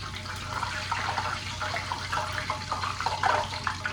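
Steady crackling sizzle of water hitting hot frying oil before chicken is cooked, a continuous bright hiss with small pops, fairly close and moderately loud.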